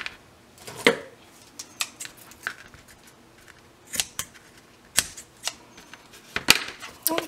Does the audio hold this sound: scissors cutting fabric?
yes